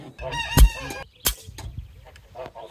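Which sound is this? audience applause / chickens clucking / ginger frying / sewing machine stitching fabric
chickens clucking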